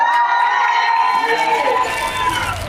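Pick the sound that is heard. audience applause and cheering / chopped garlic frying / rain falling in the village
audience applause and cheering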